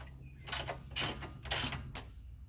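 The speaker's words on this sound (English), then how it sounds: "So we put a ratchet on," A ratchet works a lift kit bolt on a Jeep Cherokee during a Rough Country lift kit install, giving three close, loud bursts of clicking, each lasting about a quarter second, spaced roughly half a second apart.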